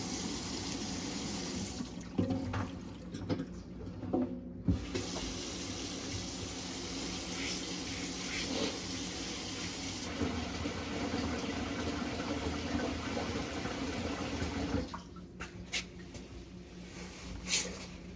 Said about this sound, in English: put the stopper in the sink, let it fill up with water about halfway